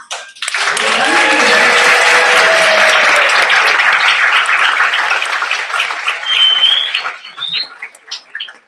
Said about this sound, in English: can you please stand up or clap if you are here and you support SAF?